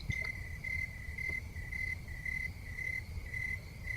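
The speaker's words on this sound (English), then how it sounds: "We got the crickets" Steady cricket chirping in a continuous, evenly pulsed trill, fairly close and alone over a low background rumble, with no voices.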